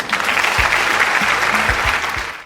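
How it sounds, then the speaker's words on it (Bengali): A studio audience at a children's talent show gives a young girl named Roshni loud, sustained applause, a close and bright burst of clapping that holds steady before tapering off. "রশনির জন্য একটা জোরে হাততালি"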